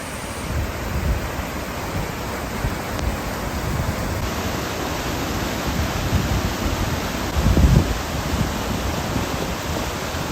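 Floodwater from heavy runoff in Arizona rushes out from underneath a road toward Oak Creek Canyon, a steady, loud, broadband roar of churning water that holds constant throughout with a brief surge near the end.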